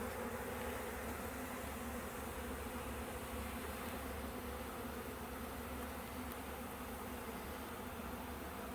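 A dense, continuous buzzing of many honey bees, drones and workers, in a hive, close and steady, filling the whole stretch without a pause.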